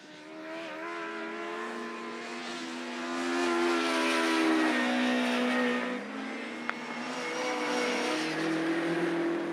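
Autograss race cars roar around a grass track in a British Autograss Series round, their engines droning and revving in overlapping layers as they pass at mid-distance. One sharp tick stands out, and no voices are heard.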